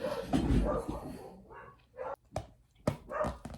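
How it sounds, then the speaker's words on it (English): Several dogs bark in short, irregular bursts at moderate distance, mixing sharp yips with a few whimpers over a quiet room. "ignore the barking dogs."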